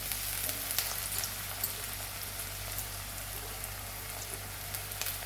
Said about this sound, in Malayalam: നമ്മൾ നുറുക്കി വെച്ച ഉള്ളി മൊത്തത്തിലായിട്ട് ഇട്ട് കൊടുക്കുന്നുണ്ട്